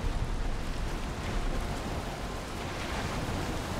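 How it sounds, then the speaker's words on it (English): Wild ocean waves rolling against the shore in the video game Valheim, a steady, dense wash of surf noise with a windy rush throughout and no talking. "There's some wild waves, man."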